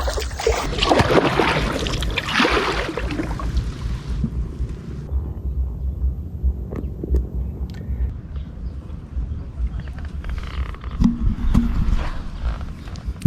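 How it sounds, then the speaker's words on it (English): Paddling a small boat through floodwaters among trees during flooding in Thailand, with steady watery splashes and broadband rushing noise up close, strongest early on, then a quieter stretch with occasional knocks. "The reason I know that is because I'm paddling through trees."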